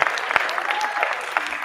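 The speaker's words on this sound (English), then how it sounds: "Round of applause, ladies and gentlemen." Crowd applause at a human rights festival, a steady wash of many hands clapping, loud and full from an audience with a faint whistle or cheer mixed in.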